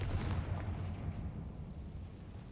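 A Confringo fire spell blasts in Hogwarts Legacy, a sustained heavy rumbling explosion with a deep low-end roar that holds steady at close range for a couple of seconds.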